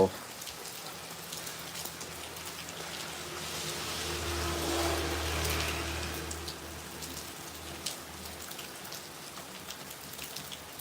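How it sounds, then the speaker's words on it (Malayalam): Morning summer rain falls steadily as a dense hiss on surfaces, swelling slightly midway. A faint vehicle passes in the distance and there is a hint of a voice in the background. "രാവിലെ മഴ മഴ ആയതുകൊണ്ട് വീട്ടിൽ നിന്ന് പുറത്തിറങ്ങാൻ പറ്റാത്തൊരവസ്ഥ നിൽക്കുകയാണ്"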